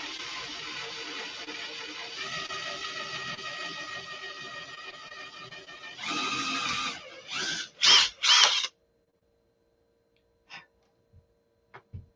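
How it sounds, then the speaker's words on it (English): A power drill whines steadily for several seconds while drilling a bell crank part, then revs in short bursts before stopping, leaving a few faint clicks. "Let's see if I drill it."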